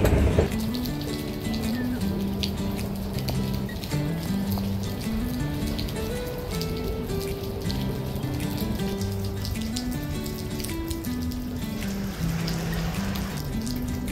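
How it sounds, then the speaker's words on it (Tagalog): Steady rain patters and splashes continuously in Singapore near Gardens by the Bay and Marina Barrage, with soft melodic tones drifting faintly underneath. "Yes, umuulan pa rin."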